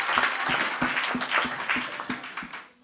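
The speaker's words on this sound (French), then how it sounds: "Nous l'acclamons très We'll fort. clap for the Lord loudly." A church congregation claps for the Lord in a loud, rhythmic burst of applause with steady, evenly spaced beats, then fades away.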